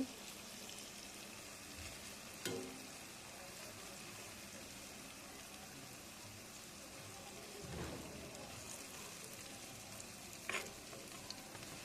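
Banana and coconut fritters (kolar bora) fry in hot oil, giving a soft, even bubbling sizzle throughout, broken by a few brief clacks as pieces are turned and lifted out.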